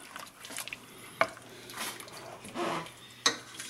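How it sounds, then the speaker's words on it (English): A spoon stirs canned diced tomatoes and lime juice in a pot, giving soft wet sloshing and a couple of sharp clinks against the metal rim, close and unaccompanied by speech. "we're going to just stir that up and bring it to a boil"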